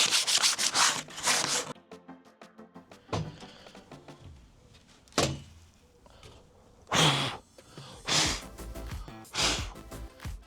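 A freshly cut metal template plate being deburred, giving bursts of rough scraping and rubbing strokes with short pauses between them, close and fairly loud.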